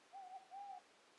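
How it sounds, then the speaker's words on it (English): Owl hooting from a relaxation sounds app, two soft, steady hoots in quick succession, faint and alone over a quiet background hiss. "Owls."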